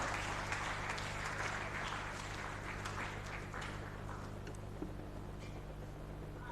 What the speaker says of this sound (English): Ladies and gentlemen, with a round of applause